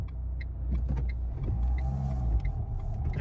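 A car passes by on a road with a steady low rumble of engine and tyres that swells around the middle, fairly close, with no talking over it.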